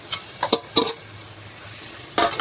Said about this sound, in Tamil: இப்போ பிசைஞ்சு வச்ச மசாலாவை கறியை இதில் போட்டுக்கலாம்.